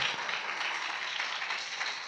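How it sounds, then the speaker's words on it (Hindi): A church congregation claps loudly in praise during a worship service: steady, dense applause from many hands, close and continuous without pause. "जोर से ताली बजा के प्रभु के नाम की स्तुति करो"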